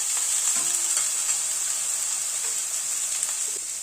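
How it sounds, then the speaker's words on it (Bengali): Eggplant, radish and potato pieces fry in hot oil with salt and turmeric, giving a steady soft sizzle and hiss with a few light stirring clinks, close and unbroken by talk. "নুন হলুদ দিয়ে সবজিটাকে আগে একটু ভেজে নিচ্ছি।"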